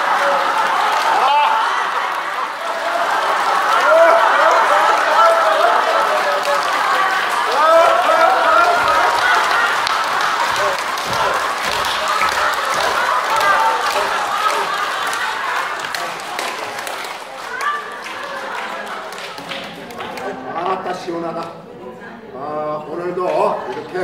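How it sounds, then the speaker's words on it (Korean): An audience in a laughter-exercise session claps vigorously and in rhythm, a dense wash of hands with whoops and chuckles that thins out and turns scattered toward the end. "자, 웃음 보약 박수"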